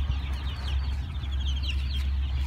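Hens on a farm: a flock clucking softly and continuously, with overlapping short calls at a middle distance over a low, steady background rumble.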